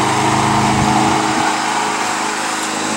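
A petrol lawn mower runs steadily and loudly nearby in a backyard with tall grass, its engine droning without a break under a faint low rumble.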